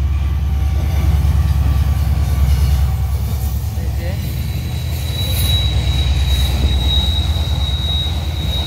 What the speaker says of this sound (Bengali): লাস্ট বলতে না বলতে আরেকটা ট্রেন চলে আসলো